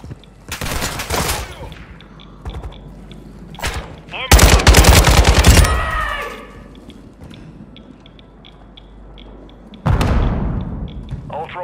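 Bursts of automatic gunfire in Call of Duty Modern Warfare II DMZ, with heavy volleys in a few loud clusters separated by quieter gaps, plus some talk mixed in.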